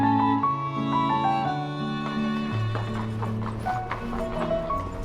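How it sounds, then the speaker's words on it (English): Horses clop with steady hoof beats and give a whinny, heard at the riding school of the Hofburg Palace in Vienna, where white stallions are trained; tonal music plays prominently over the sounds. "even its white stallions, a unique breed of horses that turn white as they age, that are elitely trained at the riding school at the Hofburg Palace"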